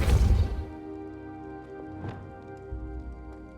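A Depulso force spell from Hogwarts Legacy strikes an object with a sharp burst at the start, followed by a lighter thud a couple of seconds later, over steady low game ambience.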